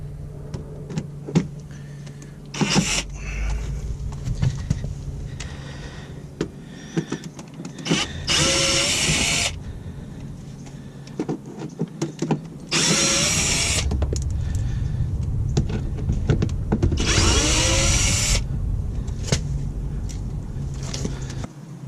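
A power screwdriver whirs in several short bursts while bumper screws come out of an MK4 Jetta, with clicks and handling noises between bursts, close and fairly loud.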